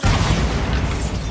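A Bombarda explosion spell going off in the Hogwarts Legacy game, one loud, close, rumbling boom that fills the short moment and then holds as a dense roar.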